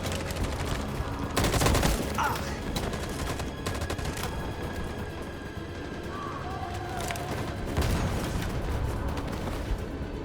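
Sustained covering gunfire in the Detroit Become Human video game, a steady crackling fusillade of many shots under ambient noise, swelling into heavier bursts near the start and again toward the end.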